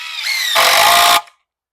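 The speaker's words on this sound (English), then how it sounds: "And then I'm going to drill this in." A power drill drives a screw into wood during a backyard sauna build, one steady whirring burst that rises in pitch and loudness for about a second, then cuts off abruptly into silence.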